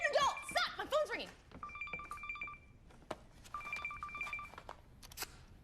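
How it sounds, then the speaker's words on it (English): A mobile phone rings in a comedy film scene, two short bursts of electronic tones spaced apart, following lively talk and heard under quieter room sound. "My phone's ringing."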